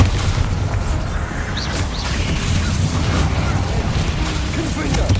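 Bombarda spell blasts in Hogwarts Legacy, a dense run of booming bursts and crashes over steady combat din, loud and close, with no clear gaps between impacts.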